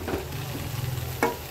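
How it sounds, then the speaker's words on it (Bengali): Vegetable noodles with soy sauce are stirred in a hot pan, a low sizzle with a soft scrape at the start and a sharp utensil knock near the end. "এইবার সবকিছু আবার সুন্দর করে মিক্স করে দেব।"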